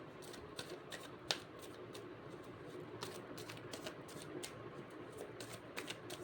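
Tarot cards being shuffled, a steady run of soft papery riffles and flicks with a few sharper snaps, close and quiet, with no voices.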